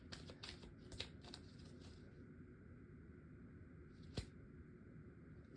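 Green Witch Tarot cards being shuffled by hand: a rapid burst of riffling card flicks for about two seconds, then quiet room tone, then one sharp card snap near the end, close and moderately soft.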